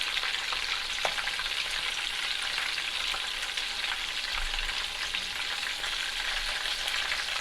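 Meatballs frying in a pan, a continuous even sizzle with faint crackles, moderately quiet and close, with no speech.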